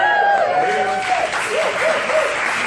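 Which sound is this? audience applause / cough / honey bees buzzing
audience applause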